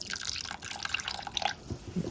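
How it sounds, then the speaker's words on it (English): Water is poured into a cooking pot in a home kitchen, giving a faint, short splash with light dripping and trickling that stays quiet and close throughout. "We'll add some water."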